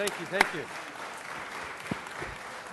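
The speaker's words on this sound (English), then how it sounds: "Mr. Englander in giving a loud round of applause for our great city photographers" A short burst of clapping from a crowd at a city council meeting, fairly faint and brief, with a few voices murmuring around it.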